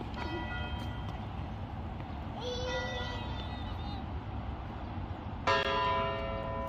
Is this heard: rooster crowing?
no